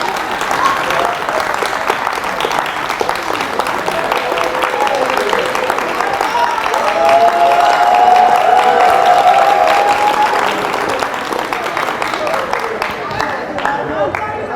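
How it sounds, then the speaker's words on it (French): Audience applause from a live crowd during a French-language show about sickle cell disease, a steady dense clapping wash lasting the whole stretch with a few faint voices mixed in. "On va applaudir jusqu'à j'ai fini."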